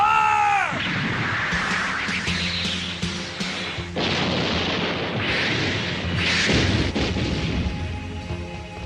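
Heavy anime gunfire and explosions, a dense continuous barrage of loud booms and crashes following a falling whine, filling the scene without pause.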